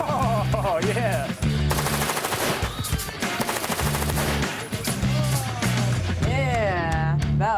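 Loud, sustained bursts of machine gun fire rattling in rapid repeated volleys, overlapping with music and brief excited voices.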